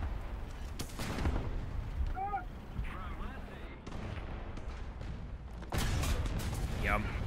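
A tank cannon fires in War Thunder with a loud, booming blast and rumbling decay, followed by further heavy impacts and a second strong boom near the end.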